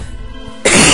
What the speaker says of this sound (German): Weil ich husten musste.